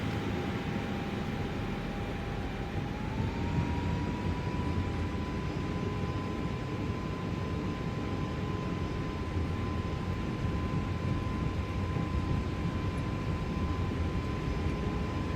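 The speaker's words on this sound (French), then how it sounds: "Plus les gars, la 320, il décolle super vite." Inside the cabin of an Airbus A320 on its takeoff roll, a steady loud roar of engine and airflow noise holds throughout, with a rising engine tone partway through as thrust builds.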